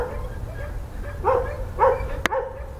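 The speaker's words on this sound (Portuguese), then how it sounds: "Tem um cachorro meio brabo lá," A fierce dog barks somewhere down the hillside toward the next neighborhood of a Brazilian hilltop community, a few short barks carrying from a distance over outdoor ambience, ending with one sharp knock.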